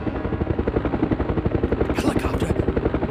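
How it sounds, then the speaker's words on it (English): A helicopter's steady, rapid rotor thump in the video game Resident Evil Survivor fills the scene, loud and close, with a brief hiss of noise partway through. "Helicopter!"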